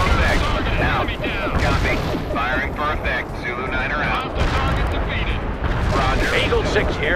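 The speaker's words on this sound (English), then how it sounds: "Artillery barrage is for full effect." Dense rumbling artillery barrage in the World in Conflict Soviet Assault strategy game, a continuous loud wash of booms and explosions with radio-style voices speaking over it.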